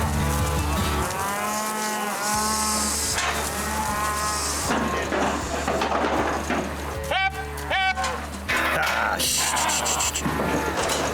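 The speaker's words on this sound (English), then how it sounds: "These cattle have never been in a truck before." Cattle being loaded into a truck for the first time moo repeatedly, loud and close, with calls overlapping amid clattering, shuffling movement and occasional buzzing insects; people's voices are briefly audible in the background.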